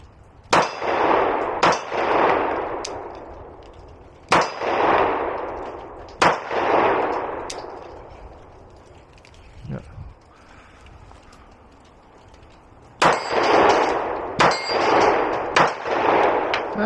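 SIG P365 pistol shots ring off a painted steel target, a series of sharp bangs each followed by a metallic clang, spaced in irregular bursts with a pause midway.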